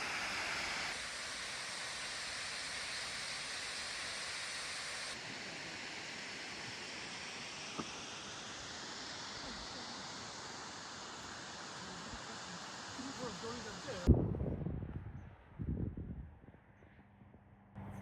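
A waterfall in a Norwegian fjord gives a steady, loud broadband roar, then cuts off abruptly into a few quieter rustles and thumps near the end.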